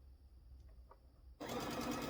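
A sewing machine starts up for a quarter-inch seam on quilt blocks after faint handling clicks, then hums along steadily and close for the last half second or so.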